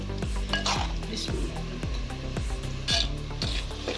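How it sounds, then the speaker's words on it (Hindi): Chicken frying in a pan and being stirred, with steady sizzling under repeated scraping strokes of a utensil, close and moderately loud, with no talking. "ये हमारा गोश्त अब भुन चुका है"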